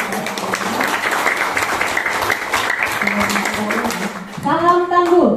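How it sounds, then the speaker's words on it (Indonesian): A gathering at the closing of a disaster preparedness training breaks into clapping, a steady wash of applause mixed with voices and a brief sung or chanted tone near the end. "Tepuk tangan dulu untuk kita."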